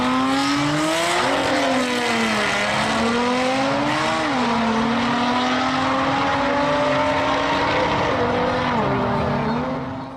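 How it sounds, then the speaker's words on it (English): A BMW M140i drag racing against a 700-horsepower car at the Hart Voor Auto's event in Breda: loud, sustained engine roar with rising and shifting revs through gear changes, continuous for the whole stretch with faint voices underneath. "we're now gonna watch that race."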